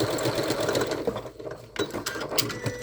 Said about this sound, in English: I'm gonna do a little zigzaggy just to be sure.